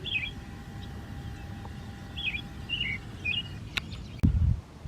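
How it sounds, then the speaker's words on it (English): Wild birds sing in Iroquois Park on a dark, cloudy April morning: a few short, faint chirps and trills come from a distance over soft ambient noise, with a brief thump near the end. "I hear so many birds, but I don't see them."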